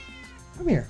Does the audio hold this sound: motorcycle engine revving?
no